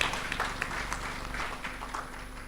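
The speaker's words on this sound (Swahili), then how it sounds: "makofi mengi sana kwa Profesa Kandoro na timu yake" Audience applause at an engineering technician day event in a large hall, a soft, steady patter of many hands clapping at a distance, faint and continuous with a low hum beneath.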